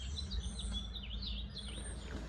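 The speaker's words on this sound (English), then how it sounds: "Some birds." Outdoor birds call in repeated, rising and falling chirps over a steady low rumble of wind, at a campsite under dark clouds before a thunderstorm, moderately distant, with no speech.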